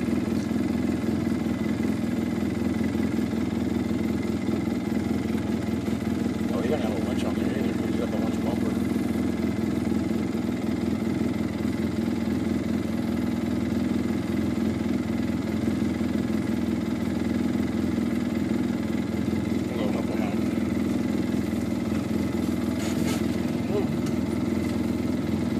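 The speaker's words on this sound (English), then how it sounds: "You got his front left wheel spinning" A vehicle engine drones steadily at a constant, low-mid pitch, close and loud throughout, with a front left wheel spinning; no clear revving peaks rise above the continuous hum.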